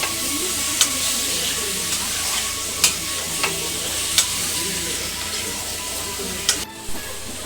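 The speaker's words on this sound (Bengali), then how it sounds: "একটু ভালো করে নেড়ে নেব চিকেনটা।" Chicken curry frying in a pan, stirred with a steady sizzle and hiss and a few sharp scrapes or clinks of the utensil against the pan.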